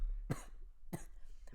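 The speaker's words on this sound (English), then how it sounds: "once I heard you start like dying of coughing" Two short, harsh coughs in quick succession after choking on water, close but fairly soft, with no talking.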